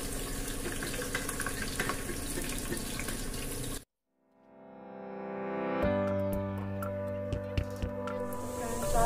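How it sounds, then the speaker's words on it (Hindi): Chopped onions hit hot oil in a pan while a chicken korma is made, a sudden sharp hiss after a brief silence, then a steady loud sizzle with faint clinks and scrapes over it. "अब मैं इसमें सारे जो जितने मैंने प्याज काटा है वो मैं सब इसमें डाल देती हूँ।"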